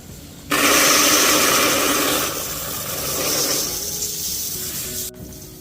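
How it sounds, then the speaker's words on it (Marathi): Wheat grains are poured into a storage container over a layer of neem leaves, a sudden loud rushing hiss of grain that runs for several seconds, eases, swells again, then stops abruptly. "पुन्हा त्यावर थोडेसे गहू घालते"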